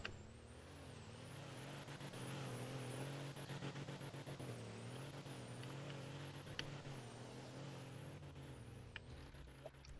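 A truck engine revs hard and steadily at high pitch for several seconds while stuck in deep mud, its tone wavering up and down as the wheels spin, with no voices.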